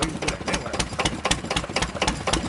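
An old Yanmar 2SG two-cylinder marine diesel engine runs close by, a steady rapid knocking chug with sharp regular clatter, loud and even throughout with no one speaking.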